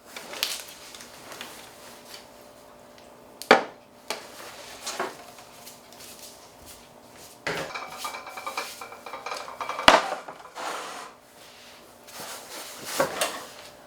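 A metal pot and gas burner clank and thud as they are set down on a surface, several sharp knocks scattered among quieter handling noises.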